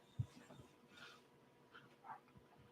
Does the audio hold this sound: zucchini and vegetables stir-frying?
no